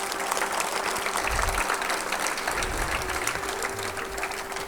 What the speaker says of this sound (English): Can we give him a rousing round of applause